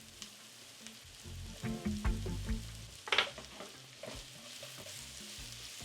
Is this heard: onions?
yes